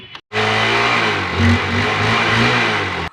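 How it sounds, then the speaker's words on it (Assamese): A motorbike engine catches abruptly and runs loud and close, rising briefly in a rev before settling into a steady rumble, then cuts off. "R বাইকখান start De"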